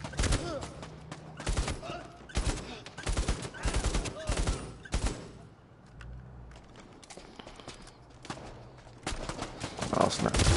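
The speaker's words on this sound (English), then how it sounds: "This man's shooting, he's not even aiming" Gunfire in the PSVR video game Bravo Team, repeated bursts of shots, some loud and close, others softer, with quieter stretches and people talking.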